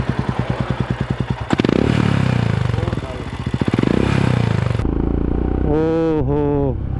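Royal Enfield Himalayan motorcycle with an aftermarket exhaust and the dB killer removed, thumping at idle, then revved in two loud, close throttle swells before a voice speaks over the running engine.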